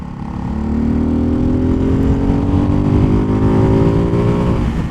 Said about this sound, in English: That was full throttle in 4th gear going uphill.